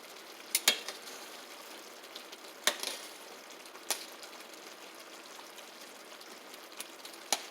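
Sweet onions simmering in a pan for Philly steak, a low steady sizzle with a few sharp clinks and scrapes of a utensil now and then, fairly quiet and without talk.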